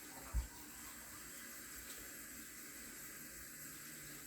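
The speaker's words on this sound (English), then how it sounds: "For that, we will fill the glass with water." Water runs steadily into a drinking glass from a tap, a faint, even hiss after a soft knock at the start, with no voices.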